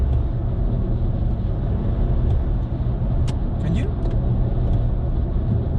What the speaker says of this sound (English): That's the turbo of the car.